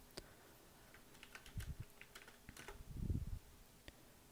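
Keys tapped on a computer keyboard in short irregular bursts of clicks, fairly close and quiet, with a low hum underneath and no talking.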